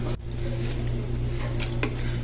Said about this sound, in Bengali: আমি হাফ রাইস প্রথমে হাঁডির মধ্যে ঢেলে দিলাম